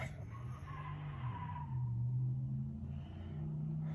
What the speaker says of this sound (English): someone pulling out of a car park